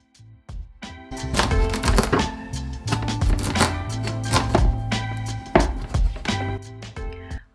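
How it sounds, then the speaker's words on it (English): A knife chops through spaghetti squash on a cutting board with a towel underneath, giving a series of loud, close thunks and crunchy cuts in an irregular rhythm with no talking. "It's going to be more easy for you to cut your spaghetti squash like that."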